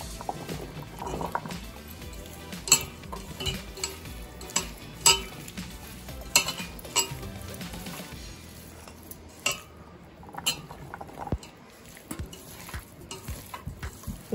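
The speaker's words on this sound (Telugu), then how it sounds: "ఇప్పుడు కొంచెం కొంచెం ముక్కలు వేసుకొని కలుపుకుందాం అండి." Mango pieces are stirred and mixed by hand for an instant mango pickle, with soft scraping, clinks of a spoon against the vessel and wet squelching in irregular bursts, quiet and close.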